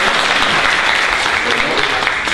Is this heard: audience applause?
yes